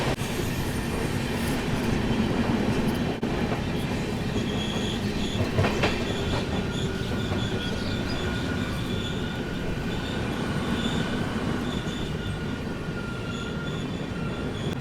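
A train rolls through Gomoh Junction railway station, its wheels rumbling and clattering steadily over the tracks with occasional squeals, loud and close from inside the moving train, with no voices heard.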